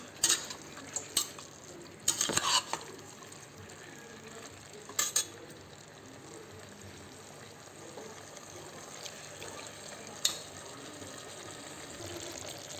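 Chicken for a gravy is stirred in a pan, with a soft background of frying and a few clanks of the spoon on the pan, quiet and close, with no talk.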